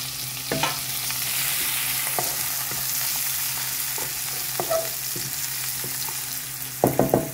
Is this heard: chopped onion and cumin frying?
yes